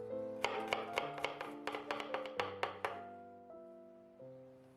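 A knife chopping onion and garlic finely: a quick run of about ten sharp taps on a board, close and crisp, over sustained musical tones that keep ringing after the chopping stops.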